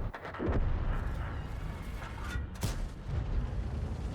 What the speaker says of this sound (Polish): Oddaję strzały na ślepa.